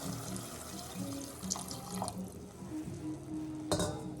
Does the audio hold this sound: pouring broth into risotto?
yes